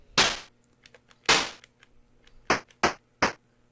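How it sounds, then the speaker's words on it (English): Short, sharp noise-channel explosion bursts from a Tandy Speech and Sound Cartridge in a retro computer game, five hard cracks with quick decays spaced over a few seconds, loud against near silence. "That little explosion sound is coming from the speech sound pack."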